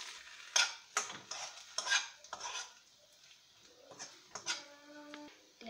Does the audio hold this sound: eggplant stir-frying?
yes